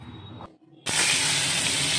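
Pomfret fish sizzling as it hits hot oil in a wok: a brief lull, then a sudden loud, steady frying hiss that fills the rest of the moment, close and continuous with no talk.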